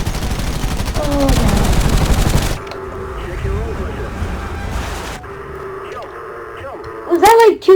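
In the War Thunder flight game, rapid machine-gun fire strikes the player's plane in a dense, loud burst lasting a few seconds, followed by quieter engine noise and scattered sounds, with a voice talking over it.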